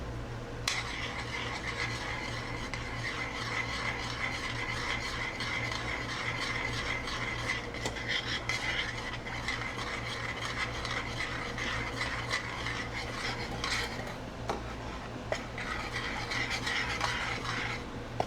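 Continuous scraping and clinking of a utensil stirring seasonings into a seafood boil in a pot, with light metallic rattles throughout over a steady low hum.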